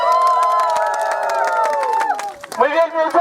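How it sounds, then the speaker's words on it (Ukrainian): Cheering and clapping from a crowd of about 140 people on a family walking pilgrimage to Budslau, with shouts and voices rising together, loud and close, easing and turning more broken near the end. "Аплодисменты для нас."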